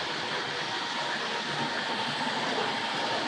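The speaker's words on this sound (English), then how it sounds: "hear that R.55 storming around behind me there" A steady, dense rumble and rattle of a Tri-ang model train running on track, continuous and fairly loud throughout with no talking.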